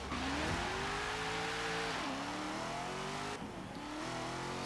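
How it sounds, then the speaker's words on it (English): A loud supercharged 2017 Chevrolet Camaro ZL1 engine in the video game Forza Horizon 3 revs hard through the gears on a circuit, pitch climbing and dropping with each shift, a high supercharger whine riding on top. "hugely quick, really loud, not just in terms of engine noise, but in terms of the supercharger whine as well"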